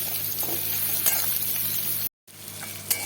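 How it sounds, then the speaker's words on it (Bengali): Prawns and onions sizzle loudly and steadily in a hot pan on a home kitchen stove, with a short break partway through as stirring continues. "মাছটা ভাজাই ছিল, আর একটু সুন্দর করে পেঁয়াজের সাথে ভেজে নিচ্ছি"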